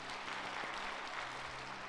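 A church congregation claps in praise during a Korean worship service, a steady, dense wash of applause from many hands. It holds evenly throughout at a moderate distance, with no one speaking over it.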